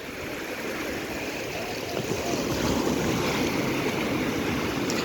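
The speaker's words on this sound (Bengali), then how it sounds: "আস্তে আস্তে ঢেউটা একটু বাড়ছে।" Sea waves rolling in at the Digha estuary on a calm, clear-water shore, a steady broadband wash of surf with wind noise, swelling slightly louder partway through, with no talking.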